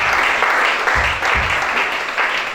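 A church congregation at a worship service in Gabon claps and cheers in a dense, continuous burst of applause, loud and close, with no pause throughout.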